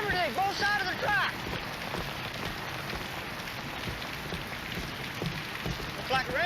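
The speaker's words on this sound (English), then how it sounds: "Looks like rain." Steady rain patters down outdoors near a railroad factory town, a constant soft hiss with scattered drops, while faint high chirps come and go at the start and end.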